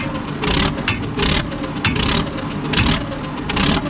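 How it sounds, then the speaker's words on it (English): A Russian tank engine idles with a steady, loud rumble, and several brief surges and clanks break through the low drone. "I'll give it to the Russians, they make a cracking engine"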